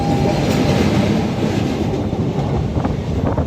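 The 13141 Up Teesta Torsa Express rolls along the rails out of Sealdah near Dum Dum, a continuous loud rumble heard from inside the train, with faint wheel clatter and a squeal near the end.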